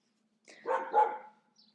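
A neighbour's dog gives a short burst of barking beside a garden, a couple of close, moderately loud barks merging into one another, then a faint trailing yip, with no talk.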